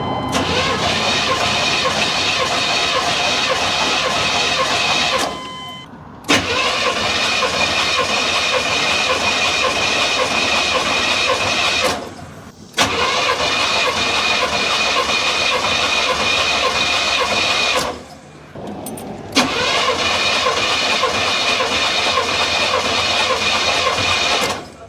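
A 1993 Chevy Blazer's 350 TBI V8 cranks over on the starter during a compression check, four long loud bursts of rhythmic cranking separated by short pauses.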